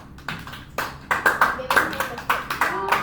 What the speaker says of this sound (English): Everybody give Kamari a round of applause.